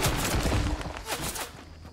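Rapid bursts of gunfire crackle through a Fortnite match, several overlapping loud shots in quick succession that thin out toward the end.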